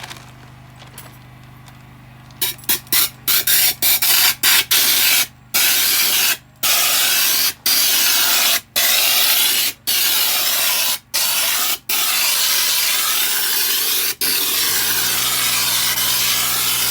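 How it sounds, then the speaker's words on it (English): A spray gun applies two-part epoxy bed liner inside a shuttle bus conversion, loud continuous hissing bursts broken by many brief trigger releases, then the spray stops and a low hum remains. "we're gonna spray it on here, and it's gonna harden and make this pretty"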